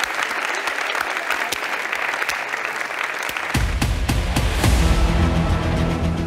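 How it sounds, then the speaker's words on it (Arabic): A studio audience at a television game show applauds in a dense, continuous wash of clapping that grows fuller and louder partway through, with faint voices mixed in. "عطوني تصفيق"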